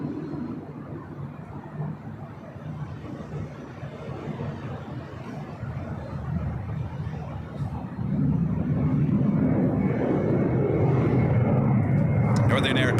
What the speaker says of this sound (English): Next arrival here on the north side, United Airlines flight 470, coming in from SFO is